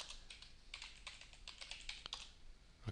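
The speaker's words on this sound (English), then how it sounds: "so I type in a password here" Quick, uneven keystrokes on a computer keyboard as a password is typed, faint and close, with about a dozen clicks over a few seconds and no talking.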